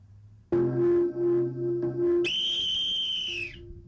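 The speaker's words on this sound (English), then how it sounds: "a constant gong and whistle rung out throughout the day" A loud, sustained whistle blast at an outdoor awareness event, held for nearly two seconds with slight dips, then jumping to a shriller, higher tone before fading; close and dominant over faint background.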